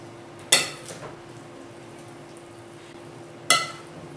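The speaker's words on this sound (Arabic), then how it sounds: "الخضره هاني كمان خلطتها، شوفوا كيفاش كي تخلطت" Rice with onion, chickpeas, parsley, coriander and spices is stirred in a pot for a Tunisian seafood and vegetable dish; two sharp metallic clanks of a utensil on the pot stand out against a quiet background hum.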